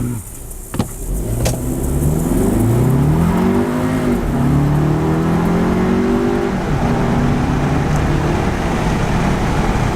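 A 2018 VW Atlas S with a 2.0L turbo engine revs up from idle, its engine note rising and falling in broad sweeping pitches, loud and close with steady drone and no talking.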